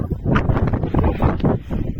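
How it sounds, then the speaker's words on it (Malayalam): Strong wind on a hilltop buffets the microphone in loud, gusty bursts of low roaring rumble, close and continuous, with no clear talking. "കാറ്റ് നോക്കാൻ നമുക്ക് ഇവിടെ നിൽക്കാൻ പറ്റത്തില്ല, അത്രയും കാറ്റ്."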